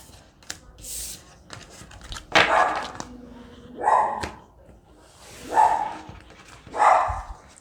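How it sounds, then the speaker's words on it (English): A pet dog barks indoors in a series of sharp, close, separate barks spaced a second or so apart, with some quieter yips between them. "Sorry for my doggy."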